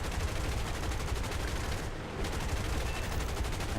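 Rapid, sustained rattle of aircraft machine guns during a video game air battle between a Buffalo fighter and Russian planes, tail gunners firing in dense continuous bursts with a brief gap midway.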